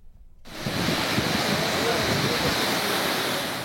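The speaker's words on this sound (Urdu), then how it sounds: "بلوچستان میں بارش اور سیلابی ریلے تباہی مچا رہے ہیں۔" Rushing floodwater torrents in rain-swollen Balochistan start abruptly and then pour on as a dense, continuous, fairly loud roar of churning water.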